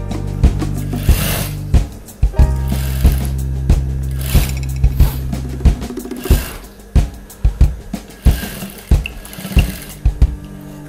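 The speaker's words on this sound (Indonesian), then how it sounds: "setelah bagian bawah kita obras" An overlock sewing machine serging the bottom hem of a zip-back gamis dress, a loud continuous mechanical whir with low hum that breaks into a run of rhythmic clattering bursts toward the end, alone with no voices.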